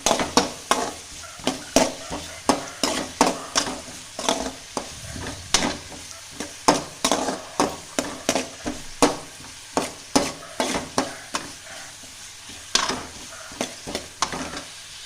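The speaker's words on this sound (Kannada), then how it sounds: "ಎರಡು ಹಸಿಮೆಣಸಿನ್ಕಾಯಿ ಅದು ಚೆನ್ನಾಗಿ ಫ್ರೈ ಮಾಡಬೇಕು ಈರುಳ್ಳಿ ಕಲರ್ ಚೇಂಜ್ ಆಗಬೇಕು" Finely chopped onions and green chillies are stir-fried in a pan. A spoon scrapes the pan in rhythmic strokes about twice a second over a soft background sizzle, with no one talking.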